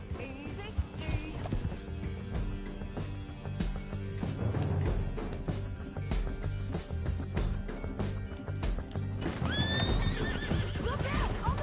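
Horses in the video game Red Dead Redemption, with neighs and whinnies over running clip-clop hooves, mixed with a dense game soundtrack and other action sounds while voices talk.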